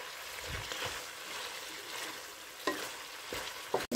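Beef bistek sizzling in a kawali while being stirred, a steady close frying hiss broken by a few scraping utensil strokes against the pan.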